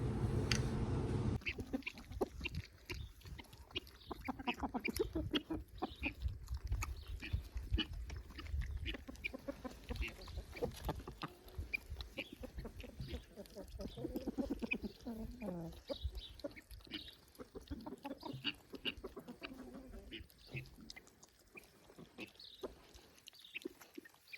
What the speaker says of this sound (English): So the chickens have all kinds of scraps down here